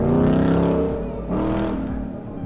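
A Ford Mustang working an autocross course gives a strong, tonal engine roar that eases off, then surges again as the car accelerates, loud and fairly close with no talking.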